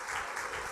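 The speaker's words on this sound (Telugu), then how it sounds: "చప్పట్లు కొట్టి దేవుని స్తుతిద్దాం." A church congregation claps to praise God during a sermon, a brief, steady burst of many hands that fills the room evenly.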